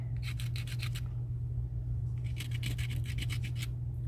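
Sandpaper rubbed across a piece cast in ceramic resin from a mold, two runs of quick rhythmic scratching strokes separated by a pause, close and clear over a low steady hum.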